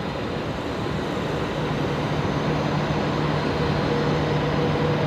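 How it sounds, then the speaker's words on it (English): A Jetstar airliner taking off from Brisbane Airport produces a loud, steady, broadband jet-engine roar with a low rumble, sustained and unbroken throughout, with no voices. "Jetstar 964 heading off now"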